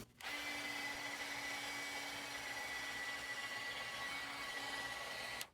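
Handheld dryer blowing to dry paint, a steady whirring rush of air that runs continuously for about five seconds between abrupt start and stop clicks, close but quiet.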